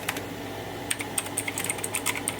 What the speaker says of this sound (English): the pudding keys don't make much noise, and then the metal ones definitely add a bit more